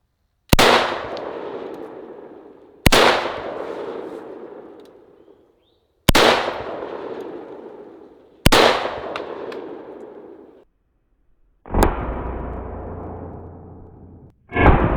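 An AK-47 rifle fires into a tire: four loud, sharp cracks spaced a few seconds apart, each with a long decaying tail, followed by a harsher sustained burst, with no voices.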